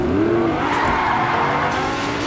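Car tires squealing and skidding in a video game, a continuous loud engine-and-tire screech with a rising whine near the start over steady engine noise, with no talking.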